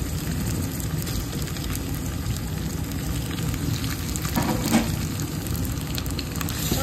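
Tomato frying lightly in a pan for coconut rice gives a steady, even sizzle, like light rain, holding constant at moderate loudness with a faint stir midway.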